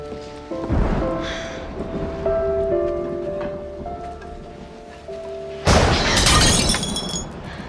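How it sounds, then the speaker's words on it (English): A deep rumble of thunder rolls in under faint musical tones, then a louder crash and heavy rush bursts in near the end. "The thunder startled me."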